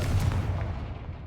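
A Confringo spell blast erupts in the video game Hogwarts Legacy, one loud, deep booming explosion that rumbles and fades over about a second.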